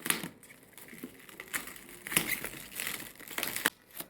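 A wooden produce crate from Leclerc being pried open, giving a run of close crackling, crinkling and splintery creaks with a few sharper snaps, continuous and fairly loud with no talking.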